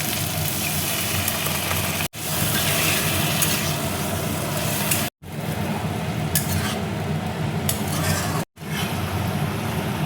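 Paneer cooking in coconut milk in a pan makes a loud, dense, continuous bubbling sizzle with stirring, cut by three short abrupt silences.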